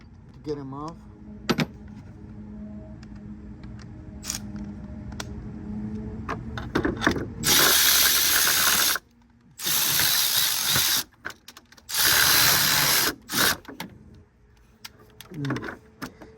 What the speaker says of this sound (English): Now we're gonna use the cordless to get them off.